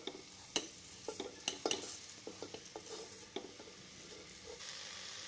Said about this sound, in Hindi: इसी में हम अब चावल मिला लेंगे।